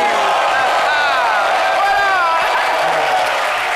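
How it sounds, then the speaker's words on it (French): A seminar audience breaks into dense, continuous applause mixed with whoops and cheering voices, loud and sustained throughout without pause. "En fonction de mon ton, vous applaudissez"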